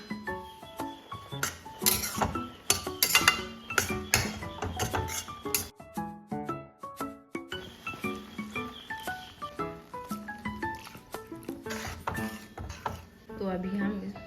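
Silkworms and roselle leaves stirred in a metal cooking pot for a Karbi recipe, with repeated clinks and scrapes of a spoon against the pot in an irregular rhythm while someone talks over it.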